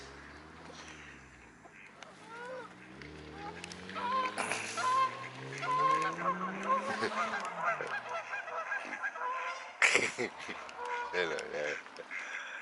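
Pigeons and seagulls squabble close by in a run of harsh, overlapping squawks and honking cries that build and trail off, while a person talks briefly over them.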